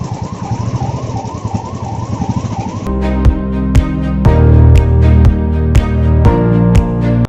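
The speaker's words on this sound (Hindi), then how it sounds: "आज देखिए एम्बुलेंस भी इसी में फंसी हुई है जाम में।" An ambulance stuck in a road traffic jam sounds a loud, rapidly wailing siren for about three seconds. After that, a louder pattern of repeated, sharply struck tonal notes takes over.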